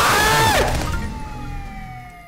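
A police siren in the video game Contraband Police wails loudly and sweeps downward, then fades into a steady tone with background engine noise.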